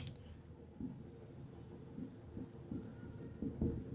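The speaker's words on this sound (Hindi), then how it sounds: "यहाँ पे लिख दे रहा हूँ" A teacher writing on a board: faint, scattered scratching strokes and light taps, quiet and close, with no speech.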